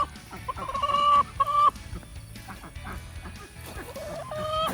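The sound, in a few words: chickens clucking in a coop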